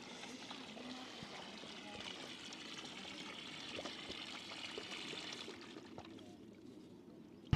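Glacier-fed water runs from a pipe at a mountain camp in the high Himalaya, a steady, faint trickle and splash continuing for several seconds before a sudden knock at the end.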